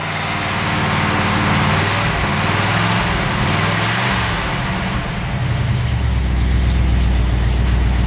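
A 1954 Ford Mainline engine running after a cold start with the choke pulled fully out, struggling to idle; a loud, continuous close-up rumble whose pitch drops and settles toward the end.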